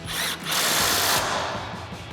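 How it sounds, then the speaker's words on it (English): Power tool spinning an 18mm socket onto a sway bar end link nut on a 2004-2025 Ford F-150, a close, loud whirring burst with a brief stop then a longer run, no talk. "Now we can tighten down our sway bar end link nut,"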